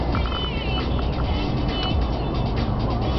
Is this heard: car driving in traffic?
yes